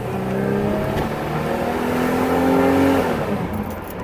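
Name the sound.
1987 Pontiac Firebird 2.8L V6 accelerating and shifting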